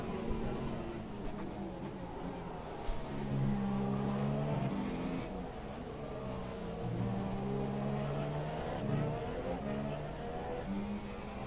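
A Formula 1 race car on ultra-soft tyres laps a circuit in the F1 2017 video game, its high engine note rising and falling steadily through gear changes, continuous and fairly distant, with no talk.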